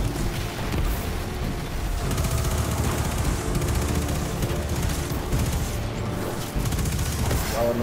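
Sustained automatic gunfire in Destiny 2 fires at crystals, a dense and continuous rattle of shots with booming impacts, loud and close, while people talk underneath.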